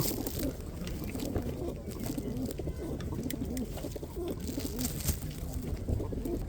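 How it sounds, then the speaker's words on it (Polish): Pigeons cooing repeatedly in low, soft murmurs at a pigeon market, several birds overlapping against a steady background hum. "fajne, czyste gołębie takie"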